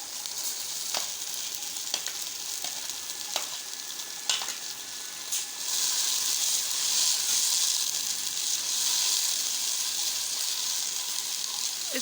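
Tomatoes hit onions frying in a pan for kadhi pakora, a steady loud sizzle and hiss with occasional stirring clicks and a surge of steamy crackle midway, no talking.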